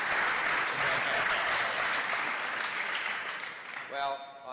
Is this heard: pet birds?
no